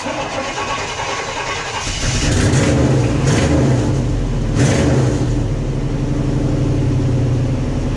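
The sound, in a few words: 1989 Chevy K5 350 V8 engine starting and running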